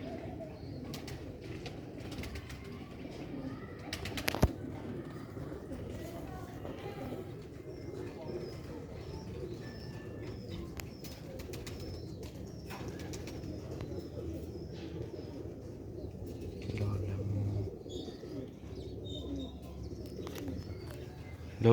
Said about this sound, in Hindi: 43 ਨੰਬਰ ਹੈ ਵੀ ਕਬੂਤਰ ਹੈ